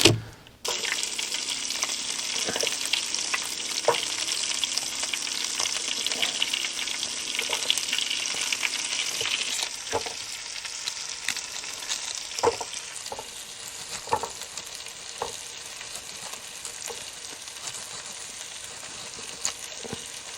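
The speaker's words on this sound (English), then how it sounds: "I've got some cauliflower, some broccoli, some sprouts, and that'll all be fried up with a chorizo sausage" Cauliflower, broccoli and sprouts frying with chorizo sausage in a pan, a loud steady sizzle running throughout, broken by occasional scrapes and knocks of a utensil stirring the food.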